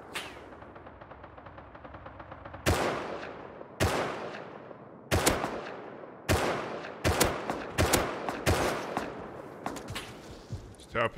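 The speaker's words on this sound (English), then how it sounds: "He's tapping the AK from range" AK rifle fire in an online raid game: a light rapid rattle, then a series of sharp, loud single reports in irregular succession, each ringing out with a decaying tail and coming faster toward the end.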